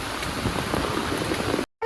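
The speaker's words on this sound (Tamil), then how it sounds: "மழை எப்ப வருது எப்ப போகுன்னே தெரியல" Steady rain pours down in a broad, even wash of drops, close and fairly loud, continuing until the sound cuts out abruptly near the end.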